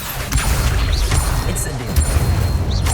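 A spell is cast in the Hogwarts Legacy video game, with a brief whooshing burst over a constant low rumble of game ambience and short bright tones.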